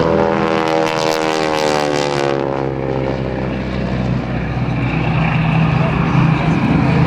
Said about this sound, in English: Steve Salmers and Tom Daly, are approaching one another in a descending head-to-head engagement at a closure rate of 320 miles per hour